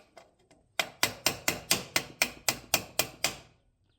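Metal muffler on a Dolmar 5105 chainsaw being hammered into place, about a dozen sharp, evenly spaced ringing strikes in quick succession, close and loud, after a couple of lighter taps.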